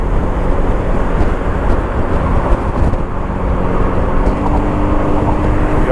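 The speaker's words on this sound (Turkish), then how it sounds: "Bir Porsche sesi geliyor. Evet, bir Porsche var, gazlıyor." Road traffic rumbles steadily throughout, with a Porsche sports car engine revving somewhere amid the congestion, blended into a dense, continuous hum of surrounding vehicles.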